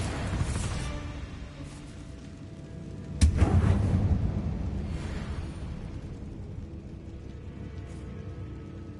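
A single booming Bombarda spell explosion in Hogwarts Legacy hits sharply, then rumbles and slowly fades into a low, steady background.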